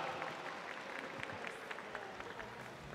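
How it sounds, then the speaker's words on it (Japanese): Audience applause at a volleyball match in an arena, a dense steady wash of many hands clapping, distant and faint, with crowd murmur and no clear speech. "大きな拍手をお願いします"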